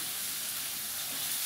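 Green chili paste and spices sautéing in a pan for a mustard foli fish dish give off a steady, close, even sizzle with no break and no talk over it.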